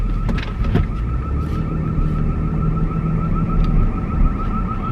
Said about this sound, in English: Where is that alarm thing going off?